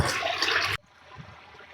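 Irrigation water flows into a village fodder field in Tamil Nadu. A loud rushing gush cuts off abruptly into a faint, steady trickle, with no voices.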